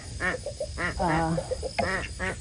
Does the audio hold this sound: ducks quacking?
yes